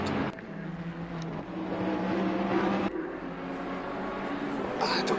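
Race car engines drone at Misano in Assetto Corsa Competizione, including a Ferrari, a steady, fairly loud motor roar with shifting pitch and a few brief sharp changes, continuous throughout.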